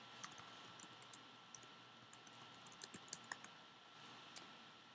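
Soft taps typing a remark on a phone screen in a mobile approval app, a scattered series of light, quiet clicks over faint background hiss.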